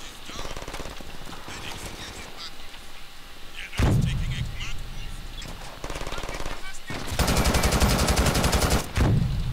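SMG gunfire in the shooter game Brink comes in rapid automatic bursts, the loudest one near the end, set among other game effects and background noise with a voice talking at times.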